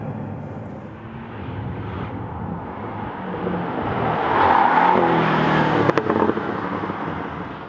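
A 2018 Porsche 718 GTS is driven around a lap at reduced speed. Its steady engine drone builds to a fuller, louder pass midway and then holds, with no talking.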